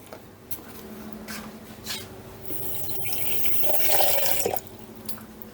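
Cold water trickles and splashes into a bowl for a few seconds, a steady pour that swells briefly before stopping, with faint room noise around it.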